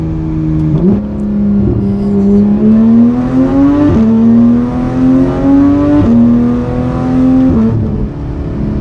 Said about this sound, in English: All right, let's do one more acceleration here. We'll go down to second.